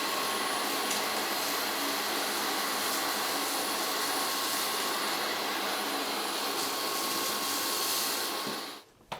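A Dreame H12 Dual wet-dry vacuum roars steadily with a flat crevice nozzle attached, a constant loud whooshing suction that cuts off abruptly near the end.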